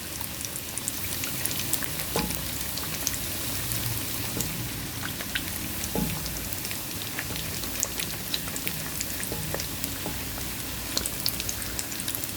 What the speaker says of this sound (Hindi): आप इसको ज़रा पहले फ्राई होने दें ताकि वो सेट हो जाए